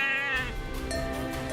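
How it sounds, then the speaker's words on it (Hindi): Goats on a smallholding, including Sirohi and Marwari breeds, give a loud, sustained, wavering bleat that fills the short moment close by, with no talking over it. "कीमा देवी ने बकरियों का लालन पालन तो किया ही"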